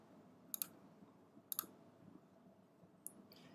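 A computer mouse clicking three times, with sharp, quiet, close-up clicks spaced about a second apart over a soft room hum.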